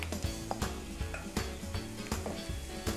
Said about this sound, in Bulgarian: Аз обичам да пържа гъби на по-висока температура.